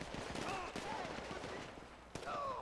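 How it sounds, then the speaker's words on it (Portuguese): Rapid bursts of gunfire crackle back and forth with a sharp loud shot near the end, over a busy layer of game sound and voices, in GTA V at a construction site. "Meu time tá na intensa troca de tiros aqui."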